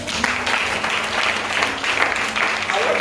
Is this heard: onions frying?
no